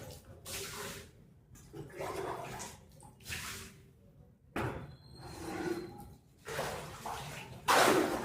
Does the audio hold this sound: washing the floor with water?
yes